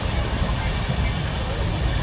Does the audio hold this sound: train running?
yes